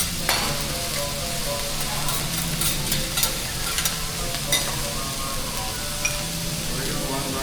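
Teppanyaki fried rice cooks on a hot griddle during a shipboard dinner show, a loud continuous sizzle broken by sharp metallic spatula taps and scrapes, with people talking in the background.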